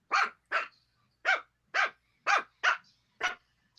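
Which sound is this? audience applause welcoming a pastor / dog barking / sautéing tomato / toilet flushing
dog barking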